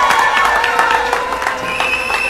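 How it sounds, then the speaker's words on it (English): A crowd at a political election event claps and cheers in a dense, sustained burst of applause, with shouting voices mixed in. "So can we give them a round of applause?"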